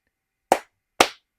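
Two sharp hand claps, half a second apart, sound close and alone in silence as someone tries to switch clap-activated lights in a LEGO set.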